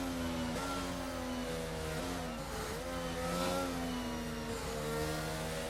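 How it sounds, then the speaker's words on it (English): Several F1 22 race cars in a video game accelerate out of a corner at the Chinese circuit, a loud, steady high-pitched engine whine with rising gear tones and shifts, filling the clip with no talk. "It looks as if Robert Yates at the moment had better acceleration at a 16"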